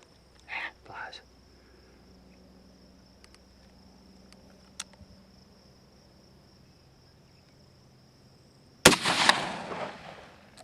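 A rifle shot during a prairie dog hunt near Trenton, Nebraska, a single sharp crack late in the clip with a rolling echo, after quiet outdoor ambience with insects chirping and brief soft voices early on.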